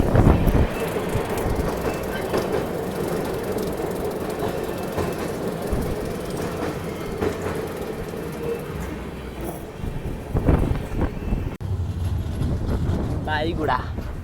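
Hirakhand Express passenger train rolling along the rails, a steady loud rumble with rhythmic wheel clatter and a brief squeal near the end, with people talking faintly underneath.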